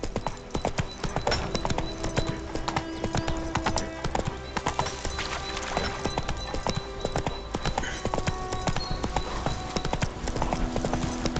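A horse in The Witcher trots with a continuous, rhythmic clip-clop of hooves up close. The hoofbeats run without a break under a dense bed of game music.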